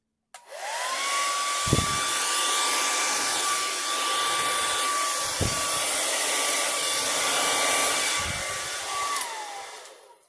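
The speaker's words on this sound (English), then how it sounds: "this is just a cheap little hairdryer I got from Walmart" A cheap small hair dryer with a concentrator nozzle switches on with a rising whine, blows steadily for several seconds with a few bumps and knocks, then winds down.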